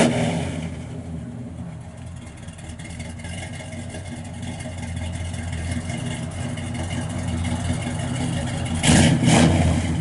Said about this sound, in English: Sounds real good out the exhaust.